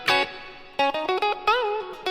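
A Fender J Mascis signature Telecaster electric guitar rings out in a clean tone: a strummed chord, then a quick run of picked single notes ending on a sustained bent note, close and clear with no voices.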